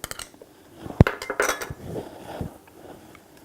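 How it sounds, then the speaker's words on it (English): Ginger and garlic go into a bowl for a stuffed chicken marinade of light soy sauce and lemon juice, with a sharp clink of utensil on bowl followed by scattered lighter clatters and rattles, no talk. "We put in the ginger"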